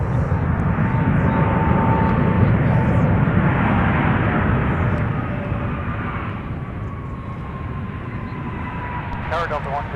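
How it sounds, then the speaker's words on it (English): A Frontier Airlines Airbus A320neo arrives at Minneapolis–St. Paul airport with a loud, steady broadband engine roar that eases slightly toward the end, with faint whining tones and a voice talking over it. "Now arriving Frontier Airlines with the A320neo."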